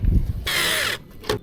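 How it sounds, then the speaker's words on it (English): A power drill drives a screw into an aluminum door sweep with a horsehair brush seal on a pool enclosure door, giving a half-second burst of steady whirring between duller handling noises. "Securing this now, second screw, push it nicely down while you're drilling."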